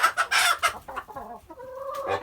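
Several brown chickens cluck and squawk close by, a run of loud, choppy calls with a brief rooster-like crow at the end.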